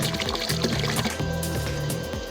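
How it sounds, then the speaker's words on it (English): Water from a narrowboat's engine service discharges into a canal, a steady pouring and splashing of liquid that runs continuously over a low engine-like hum. "the water I'm discharging into the canal is clean and free from any oil."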